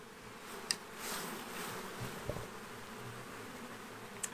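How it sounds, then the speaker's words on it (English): A faint, steady buzzing of bees hums throughout, with a few soft knocks and taps near the start and end. "Over here there's still a lot of bees on here"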